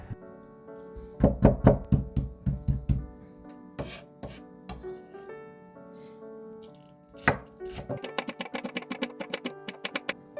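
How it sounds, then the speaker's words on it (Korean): A knife chops garlic cloves and green onion on a cutting board for stir-fried bracken fern namul, giving quick bursts of close, crisp taps, a pause with a few single knocks, then a steady rapid run of chops. "이렇게 일일이 하나씩 잘라야 돼?"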